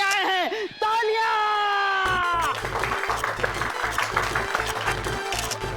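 A studio audience bursts into applause and cheering during a scene in a Hindi TV comedy series. A voice speaks first; then dense, steady clapping takes over and continues to the end.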